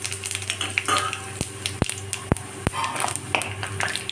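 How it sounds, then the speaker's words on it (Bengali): Bay leaves, small cardamom, cinnamon pieces and cumin seeds crackle in hot oil, a busy close sizzle broken by a few sharp clinks of a spoon against the pan. "এর মধ্যে দিয়েছি দুটো তেজপাতা পাঁচটা ছোট এলাচ তিন টুকরো দারচিনি আর বড় চামচের এক চামচ জিরে এটা আমি ফোড়নে দিলাম"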